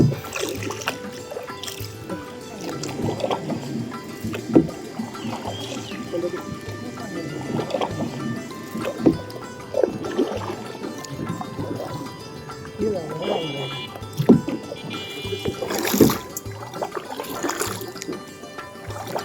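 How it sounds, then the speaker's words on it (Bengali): A kayak is paddled across open water, with soft splashes and dribbling drips recurring every few seconds beneath voices talking nearby. "প্যাডেল কর, প্যাডেল কর"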